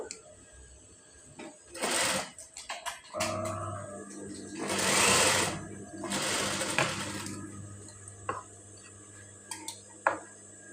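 Sewing machine stitching a ruffled sleeve fabric joint, sounding as close mechanical whirring in several short runs of a few seconds each, separated by clicks and small handling noises.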